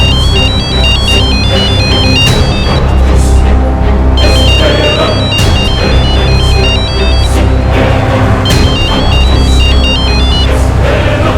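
A phone's electronic ringtone plays continuously, loud and close, with a repeating melodic pattern over a busy, dramatic backdrop.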